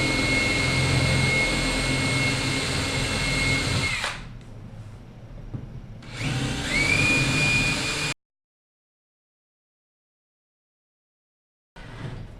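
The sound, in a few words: drill countersinking holes in plastic case with 1/4 inch bit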